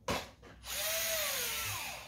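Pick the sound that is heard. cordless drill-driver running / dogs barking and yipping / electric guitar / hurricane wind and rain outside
cordless drill-driver running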